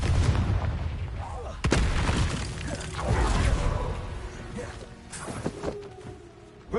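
A Confringo blasting spell detonates in the Hogwarts Legacy video game, a loud booming burst with sharp cracks and rumbling debris over a dense, noisy game soundscape lasting several seconds.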